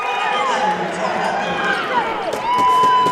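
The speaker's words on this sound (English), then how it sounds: "you can hear the White Horse crowd getting into it" Spectators at a high school state tournament basketball game cheer and shout, a busy crowd roar with sneaker squeaks and a swell near the end, under a commentator's talk.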